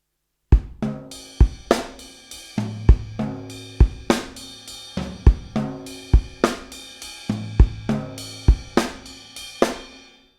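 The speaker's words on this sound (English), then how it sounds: "you can get as well the left hand with the ghost notes and you can put on the tones" Drum kit linear groove with left-hand ghost notes moved onto the toms, giving tuned tom tones between steady, regular kick and cymbal strikes; a close, clear pattern repeating about every second with no voices.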